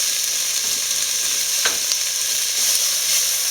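Mussels with fresh tomato frying in a pan give a steady, close sizzle with a faint stir near the middle, continuous and without any voices.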